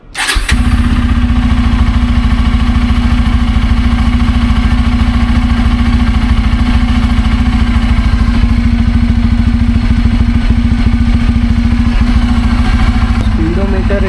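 Motorcycle engine running steadily in first gear during a DIY oil change, a loud continuous hum with a strong droning tone, starting abruptly and holding constant throughout.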